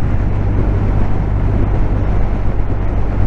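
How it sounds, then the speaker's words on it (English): BMW R1250R boxer-twin motorcycle engine pulling steadily at around 2,500 rpm while riding down a road, a loud continuous low drone mixed with wind rush, no talking. "There's that obvious boxer grunt"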